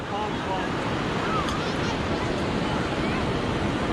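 Small creek flowing outdoors, a constant watery wash with some wind buffeting the microphone, steady and fairly close throughout.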